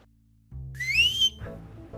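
A single bright whistle is blown and rises in pitch over a low background hum, lasting under a second, loud and close.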